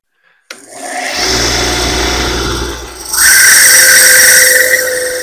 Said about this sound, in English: we're just going to wire wheel this tap to see if it's the right side